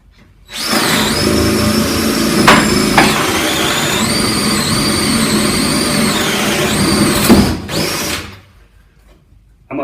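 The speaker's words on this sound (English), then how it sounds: "I'm now ready to drill my hole in the joist" A power drill drives a 25 mm auger bit through a wooden joist, giving a loud, steady whine with a few brief changes in pitch. It runs for about seven seconds, then winds down and stops.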